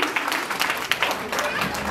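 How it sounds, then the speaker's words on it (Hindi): A crowd at a Christian gathering in Nepal breaks into applause, a dense, steady patter of many hands clapping, fairly close, with voices mixed in. "हम आपके लिए ताली बजाते हैं।"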